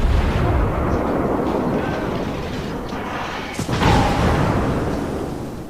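Battleship main guns fire shells in World of Warships, with one deep boom partway through, set over a heavy, constant rumble of ship and sea noise, with no talk.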